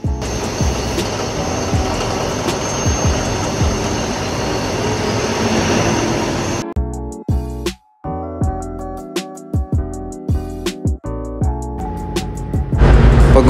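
A ship's diesel generator engine starting up: a dense, loud mechanical din gives way to the engine catching and running with a steady, harmonic hum, interrupted by brief dropouts and clanks.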